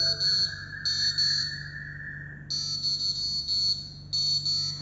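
An Arduino-driven piezo buzzer plays a simple melody of steady electronic beeps. The high tones come in bursts with short gaps between them, loud and close, with a low hum underneath and nobody speaking.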